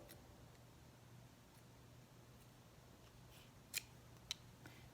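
Scissors snip crochet yarn during a mug rug project, giving two sharp, brief cuts close by in an otherwise quiet room with a low steady hum.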